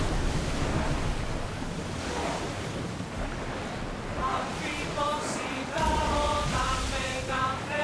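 Wind and surf rush steadily as a ship sails at full speed in Assassin's Creed Odyssey, a loud, continuous roar of blowing air and breaking water, with faint tonal game sounds rising toward the end.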